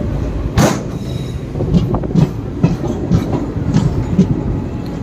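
A Salem–Karur–Trichy passenger train rolls along, its wheels clattering in a rhythmic clickety-clack with sharp metallic knocks over a steady rumble, heard from on board and close.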